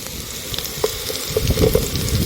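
Hot oil sizzles and spatters with small pops as dried red chillies, garlic and ginger fry, a close, continuous frying crackle with no voices.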